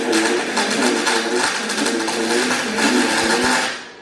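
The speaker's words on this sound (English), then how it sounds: "Usually welding doesn't make that much popping or stuff flying everywhere." A car differential is welded, with contaminants causing popping: a loud, steady, close crackling hiss with scattered pops throughout, no talk.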